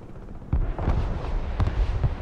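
Gunfire in the Broken Arrow video game, with several sharp shots standing out over a dense, continuous rumble of battle noise.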